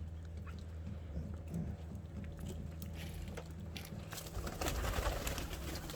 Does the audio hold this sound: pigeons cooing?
yes